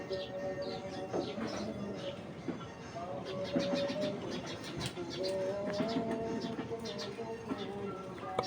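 Giribaz pigeons cooing and shuffling in a loft, a steady low murmur of coos and soft wing and foot movement with faint bird calls throughout.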